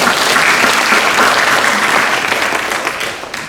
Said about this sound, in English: I'd ask again that you give yourselves a round of applause